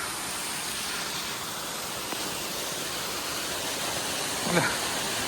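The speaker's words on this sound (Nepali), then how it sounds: "झर्ना चाहिँ यस्तो छ" A small hillside waterfall in Nepal, cold water running down from above, gives a steady, even rush of falling water that fills the whole moment, with one brief splash or knock near the end.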